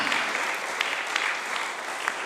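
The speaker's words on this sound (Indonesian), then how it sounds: "Maka saya ingin mendengar lagi tepuk tangan yang memiliki dua tangan yang berarti." A church congregation at a Sunday worship service claps together in a steady, full round of applause that continues evenly throughout.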